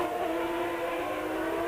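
A Formula One car from the 1993 South African Grand Prix pulls away after losing throttle from low hydraulic pressure, its engine a steady sustained whine heard at a distance, with no voices.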